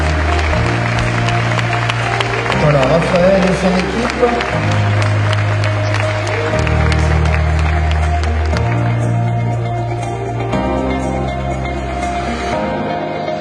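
Steady crowd clapping at Cavalaire's 2019 mayoral New Year wishes event, layered over stepping music chords, with a host briefly speaking before the applause eases toward the end.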